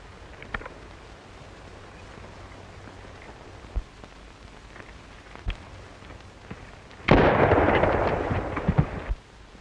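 Rifle shots from a 1935 film crack out as a few sharp, isolated reports spaced several seconds apart, followed by a longer burst of rushing, noisy blast near the end.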